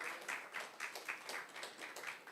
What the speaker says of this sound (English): This is something which I think deserves a bigger clap than you all are giving